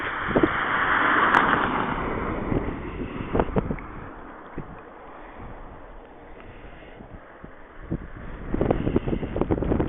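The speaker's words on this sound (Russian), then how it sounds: "ветер дует с северо-востока." Strong northeast wind gusting across open ground on an icy April day in Pavlodar region, roaring and buffeting in loud surges, with quieter lulls between gusts.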